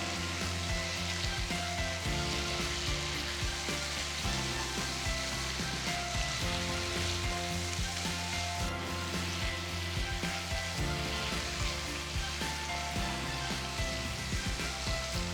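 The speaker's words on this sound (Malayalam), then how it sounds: "നന്നായിട്ട് ഇതൊന്ന് ഫ്രൈ ചെയ്തെടുക്കുക. ഇപ്പം ഞാൻ ഹൈ ഫ്ലെയിമിലാണ് ഇട്ടേക്കുന്നത്." Mutton liver fries in a pan on high flame, giving a dense, continuous sizzle and crackle that stays loud and even throughout, with faint stirring and no talking.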